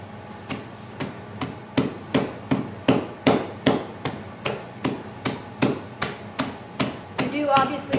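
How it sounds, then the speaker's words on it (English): A hammer strikes chunks of chaga mushroom about sixteen times in a steady, evenly paced series of sharp, close, hard knocks, with light handling noise near the end. "I'll just break this stuff up a little bit smaller until we have more of the sizes that I'm looking for"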